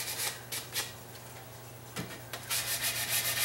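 Close, dry scratchy strokes of sandpaper rubbing a wooden table by hand, irregular back-and-forth passes with brief pauses, over a faint low electrical hum.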